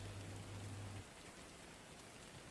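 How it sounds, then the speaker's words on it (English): Rain falls steadily outside a window that does not seal, a soft, even hiss of drops with a low hum during the first second, faint and continuous with no voices. "It is raining again."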